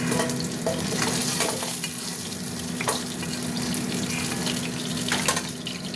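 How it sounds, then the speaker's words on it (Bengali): Pieces of rohu fish fry together in hot oil with a dense, continuous sizzle, occasional spattering pops and a low steady hum underneath, without any speech. "মাছটা ভাজা হতে থাক"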